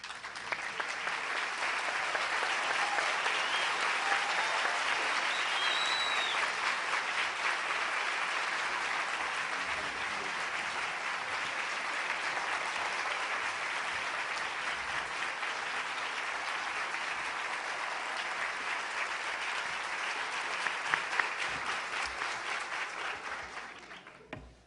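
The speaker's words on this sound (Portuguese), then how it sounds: "É isso que essas palmas querem dizer." An audience at a Rubem Alves book launch for "Um Céu Numa Flor Silvestre" applauds: sustained, dense clapping from a full room, steady and loud for over twenty seconds before fading out.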